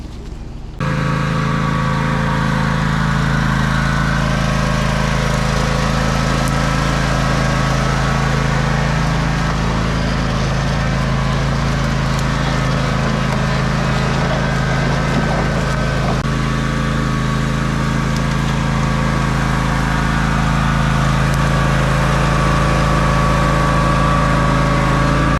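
A John Deere riding lawn mower engine runs steadily with a loud, continuous drone that holds an even pitch throughout, with no voices over it.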